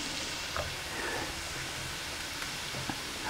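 Beef sautés in a wide saucepan for stroganoff, giving a soft, even sizzle with a few faint stirring scrapes, quiet and continuous with no talk.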